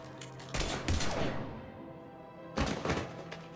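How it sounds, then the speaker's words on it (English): Gunfire from a firefight in the Mass Effect 3 video game, with two loud bursts of shots at the start and again near the end, separated by a quieter stretch of game ambience. "Now open fire!"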